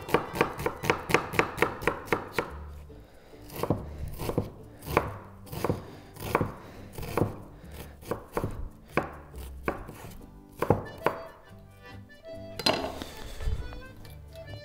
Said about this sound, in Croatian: Luk ćemo otprilike iseći